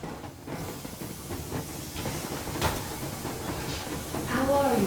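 A steam train in the video game Metro Exodus hisses steadily, with broad rushing steam noise and faint rail rumble throughout, then a brief rising squeal near the end.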